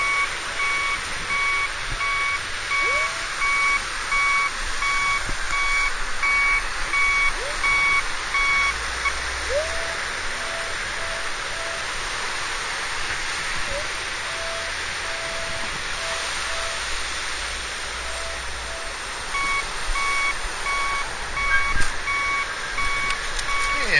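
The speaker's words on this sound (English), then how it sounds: "Coin signal. Penny or dime, it sounds like." Metal detector coin signal tones, reading as a penny or dime, while sweeping dry sand near the top of a slope: short repeated beeps and warbling tones rise over steady background hiss, with a few brief rising chirps between them.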